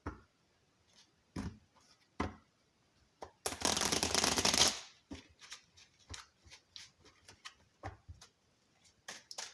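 Tarot cards shuffled for a general reading, a dense riffling burst in the middle, surrounded by soft scattered taps and card handling, close and quiet with no talk.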